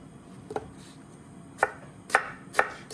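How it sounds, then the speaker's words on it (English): A knife chops onions on a board with five sharp, separate strikes, sparse at first and then quicker, close and fairly quiet. "And then it's about chopping"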